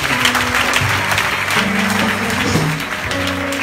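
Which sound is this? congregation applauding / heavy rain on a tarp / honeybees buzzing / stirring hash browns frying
congregation applauding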